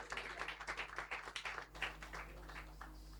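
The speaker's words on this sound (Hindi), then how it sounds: "ताली बजाइए" A church congregation at a fasting and prayer service claps along in a steady rhythm, a run of soft, fairly quick claps that loosens and fades toward the end.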